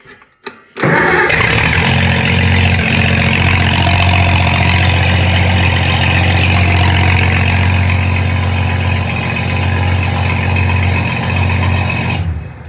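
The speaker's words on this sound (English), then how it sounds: "Let's fire the tractor up, see what it does." A 1955 Oliver Super 88 tractor engine cranks and catches, then settles into a loud, steady low idle that runs on before cutting off at the end.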